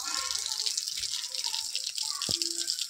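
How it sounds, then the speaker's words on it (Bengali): A tap runs into a basin indoors, a steady rushing stream with a faint clunk partway through, heard close and alone without speech. "জল এসে গেছে, তো এখন ময়লা পড়ছে, সেই জন্য ওটা ওয়াশ হচ্ছে"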